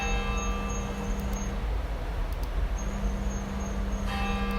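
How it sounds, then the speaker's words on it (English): A single struck bell effect placed in an Adobe Animate timeline rings out with steady tonal overtones, sounding twice across a constant low hum and noisy background with no voices. "I want that bell to happen right when his foot hits the ground, but I only want one bell."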